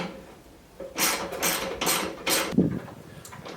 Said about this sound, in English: I needed a deep socket right here, and it's got one.